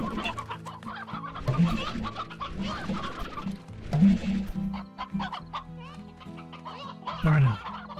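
Chickens cluck repeatedly in the Slime Rancher video game, with several bursts of clucking over a steady background music bed and no talking.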